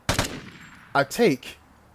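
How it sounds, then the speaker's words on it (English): Two or three sharp, loud rifle shots from the game Vigor, spaced out and fired singly with short echoing tails, with a faint whistle trailing between them. "a couple of speculative shots and see if I can take him out"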